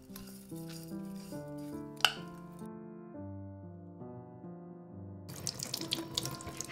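A Japanese long green onion is rinsed under a running kitchen tap, the water hissing beneath a prominent musical melody and swelling louder near the end.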